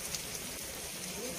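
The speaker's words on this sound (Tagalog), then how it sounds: "So, ngayon po ay maulan." Soft, steady patter of rain falling outdoors during work on a vehicle, a quiet continuous hiss with scattered drops and no voices.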